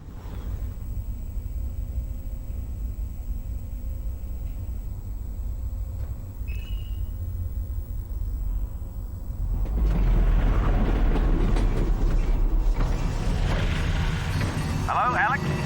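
A train rolls along rails in the video game Half-Life Alyx, a low continuous rumble that swells louder and rougher partway through, with a brief higher squeal and a voice speaking over it.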